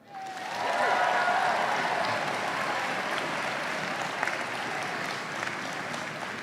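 At a Notre Dame university commencement, a large audience bursts into applause that rises quickly and holds as a dense, sustained wash of clapping, with a brief whistle at the start.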